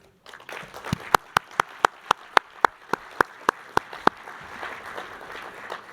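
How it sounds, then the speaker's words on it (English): Audience applause for a string quartet at an evening speech event, heard as a sparse run of about a dozen sharp, evenly spaced individual claps that stand out over a faint murmur before fading. "I will ask you a round of applause for the beautiful band"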